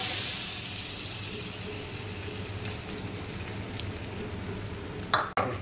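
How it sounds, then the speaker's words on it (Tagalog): An egg fries in a pan for chicken fried rice, giving a continuous loud sizzle and hiss, with a brief clatter of utensil scraping near the end. "Unahin na natin iprito tong itlog."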